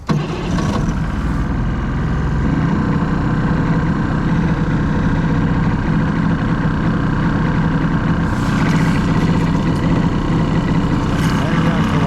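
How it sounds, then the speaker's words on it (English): A Clacker Craft open boat's engine runs loud and steady on a water test, a continuous low rumble lasting the whole stretch with only slight swells in intensity. "I'm gonna rev that up"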